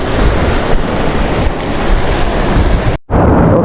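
Ocean waves and surf at a fishing spot, heard close as loud continuous wash and rushing noise with heavy wind buffeting, broken by a brief dropout near the end.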